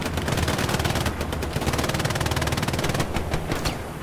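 MG42 machine gun in the video game Hell Let Loose firing long, rapid sustained bursts, loud and close, the dense rattle running almost unbroken with brief gaps near the end.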